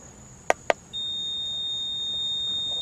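A car's warning buzzer sounds two short sharp beeps, then a steady high electronic tone that holds continuously, clear and close inside the vehicle.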